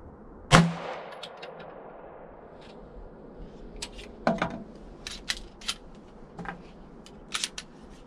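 A Taurus GX4 carry pistol with a Holosun optic fires one sharp shot at a target during zeroing, followed by scattered metallic clicks and clanks of gun handling, with no talking.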